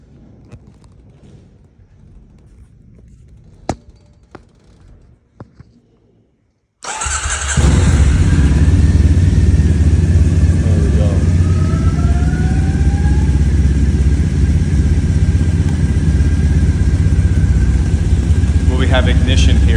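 Triumph motorcycle that has been sitting in storage fires up after quiet shuffling and clicks, then settles into a loud, steady close idle with a slight rising rev.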